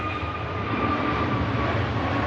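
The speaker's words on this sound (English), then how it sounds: "Egypt Air heads out to Cairo" EgyptAir airliner departing Manchester Airport for Cairo, a steady jet roar with a faint whining engine tone, fairly distant and continuous, with no voices.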